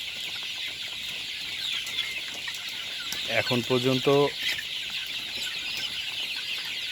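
A flock of 39-day-old Sonali Classic chickens in a poultry shed clucks in a short, close burst of stacked calls over a constant high hiss, and a voice speaks briefly.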